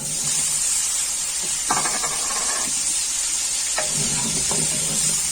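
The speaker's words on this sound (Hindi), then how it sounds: "थोड़ा सा आलू को फ्राई करूंगी।" Potatoes fry in ghee and oil in a pan, a steady close sizzle with short bursts of crackle and a stir or two partway through.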